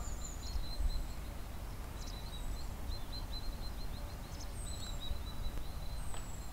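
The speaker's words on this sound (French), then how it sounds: "On entend les oiseaux, je pense qu'ils commencent à se réveiller" Birdsong in the early morning outdoors near horses: a few thin, high whistled calls and short chirp series repeat at intervals, faint and somewhat distant over a steady background hiss, with no talking.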